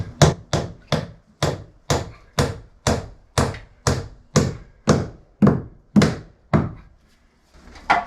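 A hammer drives nails into a timber joist in a steady run of about fifteen sharp, solid thuds, roughly two per second, close and loud, pausing briefly near the end before one more strike.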